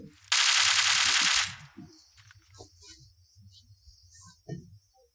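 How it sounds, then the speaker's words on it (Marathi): A burst of rapid automatic gunfire from a video game rings out loud for about a second, followed by scattered faint shots and clicks while people talk quietly underneath. "फायरिंग कुठून होते?"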